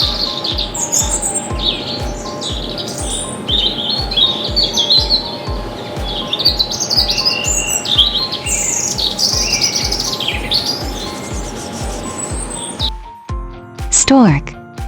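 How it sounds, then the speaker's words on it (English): A robin sings a long run of bright chirps and warbling phrases over a steady, low, pulsing rhythmic background, ending with a short, sharp, falling call. "Robin."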